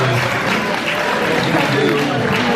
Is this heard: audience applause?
yes